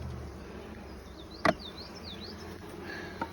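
Honeybees at a hive being opened for inspection hum in a low, steady drone, with one sharp knock partway through and faint bird chirps overhead.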